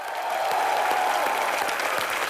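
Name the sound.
audience applause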